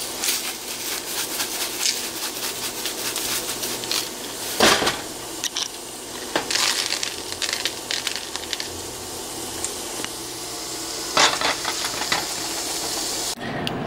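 Steak with garlic frying in a butter-coated pan, seasoned with Monterey steak seasoning, a continuous close sizzle and hiss with intermittent spatters, taps and brief clatters from handling the pan.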